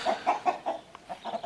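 A rooster gives a quick run of about eight short clucks in an uneven rhythm, close and fairly loud.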